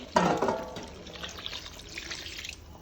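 Water poured into a thick tamarind fish curry in a pan makes a short splashing gush at the start, then settles into a soft bubbling simmer without voices.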